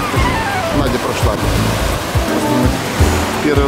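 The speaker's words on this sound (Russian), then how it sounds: "Здесь тоже очень красивый пляж." Steady surf rolls and washes onto Tonsai beach at Railay, a constant broadband roar of breaking waves close by with no pauses.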